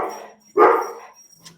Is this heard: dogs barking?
yes